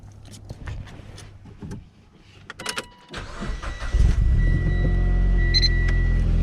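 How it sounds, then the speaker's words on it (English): A Mitsubishi Evo X is started: a door shuts and an electric window whirs, then the starter cranks and the engine catches into a loud, steady low idle rumble close by. "I'm gonna go turn my car on."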